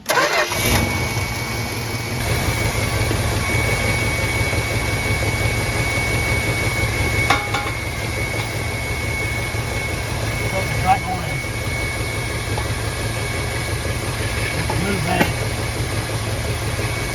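A 1966 Plymouth Fury III with a 318 V8 cranks briefly and catches right away, then sits at a steady, moderately loud idle with faint clicks and small background noises throughout.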